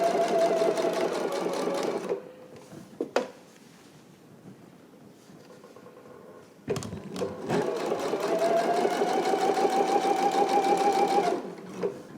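A sewing machine runs steadily while understitching a fabric facing, stopping briefly in the middle with a few clicks before resuming at an even, close hum.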